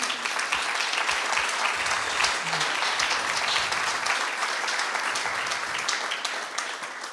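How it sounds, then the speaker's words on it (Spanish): Church congregation claps loudly and steadily for several seconds, a dense, sustained burst of many hands with faint voices mixed in and a slight fade at the end. "Denle ese aplauso fuerte a Jesús."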